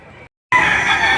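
A black hen chicken with white feet gives a loud, near crow that breaks off for a short silent beat and then bursts back in strongly.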